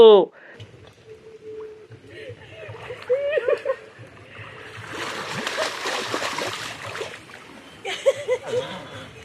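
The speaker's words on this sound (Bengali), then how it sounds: "এই নখ কেটে একখানে ডুব দিতে আসে আর এই ডুব দিতে গিয়ে ওরে বাবা ভরে ভরে কাদা" Water splashes and sloshes as someone dips into a muddy pond, with irregular bursts of splashing swelling in the middle and again near the end, while a person talks intermittently.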